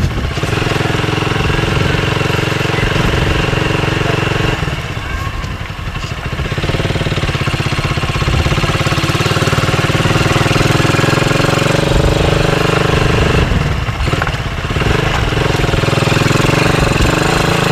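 A loud motorcycle engine runs steadily through mud, its rough rumble rising and dipping slightly as it rides, with no voices.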